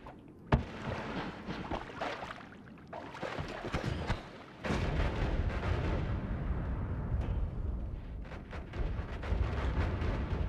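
Dynamite detonates in the video game Noita: several separate blasts that do not go off together, a sharp crack followed by heavier rumbling bursts and a sustained roar of debris, with no one talking.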